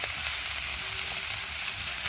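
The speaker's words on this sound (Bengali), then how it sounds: "তো দেখো আলু পেঁপেটা ভাজা ভাজা হয়ে গেছে" Potato and papaya pieces frying in oil in a pan, a continuous close, bright sizzle with faint stirring scrapes, steady and alone with no talking.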